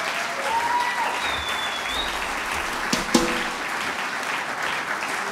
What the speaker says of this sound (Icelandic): Skulum gefa honum gott klapp.